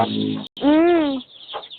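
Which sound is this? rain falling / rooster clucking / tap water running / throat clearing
rooster clucking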